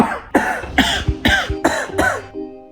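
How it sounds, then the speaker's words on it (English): A dry, persistent cough repeats six times in quick succession, each a harsh throaty bark with a short rasping tail, loud and close, with no talking. "Stop coughing!"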